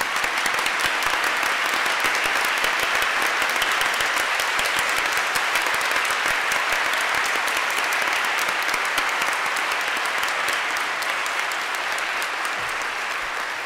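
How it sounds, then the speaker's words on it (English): Sustained, even applause from a large symposium audience in a hall, dense and unbroken for the whole stretch, with no voices over it. "would you please stand up so we could give you a round of applause?"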